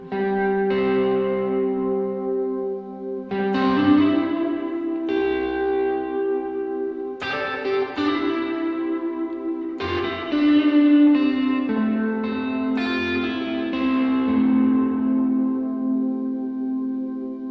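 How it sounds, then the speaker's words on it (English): Electric guitar chords ringing out with a wash of reverb, each strum decaying slowly into a spacious echo, steady and fairly loud with no voices. "We can add a little bit of reverb."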